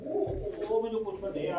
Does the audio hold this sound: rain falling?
no